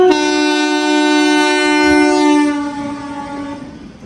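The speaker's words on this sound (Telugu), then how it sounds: "SMBT Bengaluru Dhanpur super fast express అనమాట ఇది వచ్చేసి." The SMBT Bengaluru–Danapur superfast express train passing, a loud sustained horn blast for over two seconds over rolling wagon noise that fades as the train moves on.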